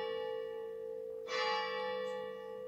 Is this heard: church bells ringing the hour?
yes